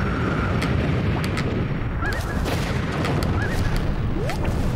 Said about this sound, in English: Something exploded off screen.